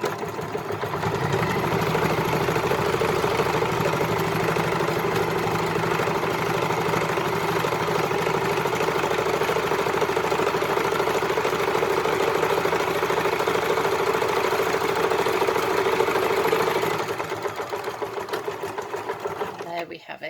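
A sewing machine stitches along the edge of a fabric eco shopper handle, giving a fast, steady mechanical whir that runs continuously for most of the time before stopping near the end, with a voice talking over it.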